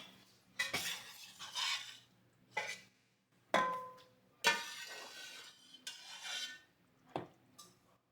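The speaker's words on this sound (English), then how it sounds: "you can scoop them out with a spoon instead of straining the broth" A metal spoon clinks and scrapes against a pot while lifting vegetable chunks out of chicken soup broth, sounding as several separate close taps and scoops with short pauses between them.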